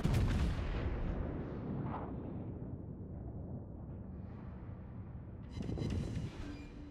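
Heavy naval guns boom in World of Warships, a big low blast at the start rolling into a long rumbling decay, with another deep report near the end, loud and reverberant with no talking.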